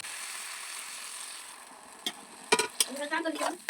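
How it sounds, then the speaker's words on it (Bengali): Steamed banana flower curry stir-fried in a pan gives a steady low sizzle, then a few sharp spoon scrapes and clacks toward the end. "ভাপিয়ে রাখা মোচার সাথে সমস্ত জিনিসটা এবার ভালো করে কষিয়ে নিয়ে"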